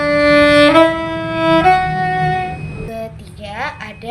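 Violin notes bowed with accents, each attack sharply stressed: a sustained tone with strong harmonics, a second accented note, then a third, after which faint voice-like sounds take over near the end.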